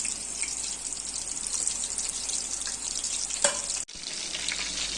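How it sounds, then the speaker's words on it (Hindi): Haryali kebabs frying gently in a pan over low heat, giving a steady soft hiss and crackle throughout, with a brief clatter and a momentary drop near the end. "हल्की हीट पर हमने इन्हें फ्राई करना है और ये तकरीबन फ्राई हो चुके हैं।"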